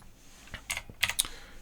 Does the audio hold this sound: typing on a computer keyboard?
yes